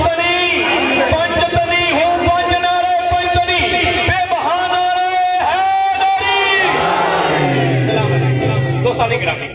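A crowd of voices chants a slogan together in loud, rhythmic unison, repeated call-and-response bursts close by, at a devotional religious gathering, with a leader's voice cutting in between.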